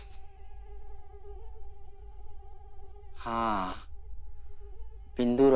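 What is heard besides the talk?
mosquito buzzing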